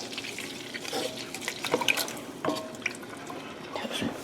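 Oysters and their liquid poured into a pan of melted butter over medium heat, giving a close, wet splashing and dripping with scattered small sizzles and pops throughout.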